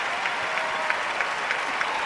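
A big Olympic arena crowd at Salt Lake City 2002 applauds steadily as Fumie Suguri finishes her Moonlight Sonata free skate, making a dense, even roar of clapping with no voices on top.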